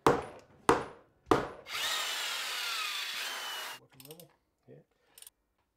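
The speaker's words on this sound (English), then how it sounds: "Sawing, shaping, filing, drilling, and doing it all over again to get the mismatched parts to fit and hold." Workers shaping metal parts for a century-old wheel: three sharp sawing or filing strokes, then a steady mechanical whir of about two seconds like a drill, followed by scattered ratcheting clicks and taps nearby.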